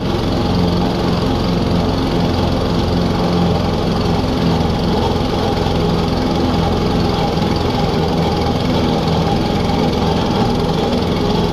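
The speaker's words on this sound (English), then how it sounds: "I wanted you to really hear this mower work to get the job done." A Toro Recycler Max lawn mower engine runs steadily and loudly throughout, a constant droning roar with a low rumble as it bogs through thick, tall grass.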